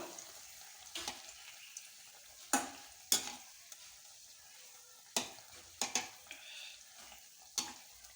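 Bread pieces fry in hot oil in a home kitchen, a quiet steady sizzle broken by several sharp stirring and scraping clicks spread unevenly across the span.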